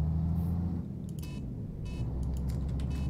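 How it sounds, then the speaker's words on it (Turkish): A MAN bus turn signal in a video game bus mod clicks repeatedly over a steady low engine rumble, the ticks sharp and evenly spaced, with a brief high beep near the start. "Otobüs güzel ama bu sinyal sesi ne ya?"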